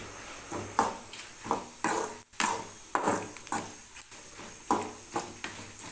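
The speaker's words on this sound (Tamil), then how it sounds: "இப்போது கருவேப்பிலையும் கொஞ்சம் எடுத்துக்கலாம் மசாலா மட்டும் இப்போ வறுத்து எடுத்துக்கலாம்" Masala and curry leaves roast in a pan for a chutney: a quiet dry sizzle broken by a steady series of spatula scrapes and taps against the pan, with no voices.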